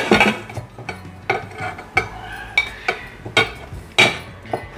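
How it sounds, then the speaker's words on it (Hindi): Tamarind goes into a cooking pot with a series of sharp clinks and knocks, about eight distinct metallic hits spaced irregularly over a few seconds, close and fairly loud. "इसमें हम अपनी इमली को डालेंगे।"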